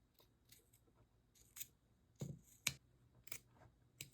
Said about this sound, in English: I'm just going to take my scissors and just cut the box outs